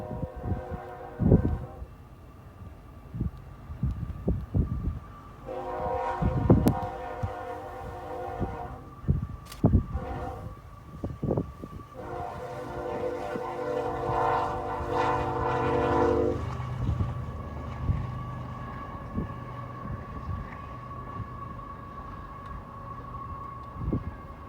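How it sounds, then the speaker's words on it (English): Westbound BNSF intermodal freight train led by two GE locomotives passing outside Williamsfield, Illinois, with several loud horn blasts over rumbling wheels and clanking cars. "we found a westbound intermodal with 2 BNSF GEs on point"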